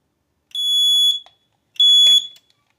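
An FC7200 fire alarm panel in walktest mode gives two loud, shrill electronic alarm pulses, each about half a second long, separated by a short gap, with silence around them.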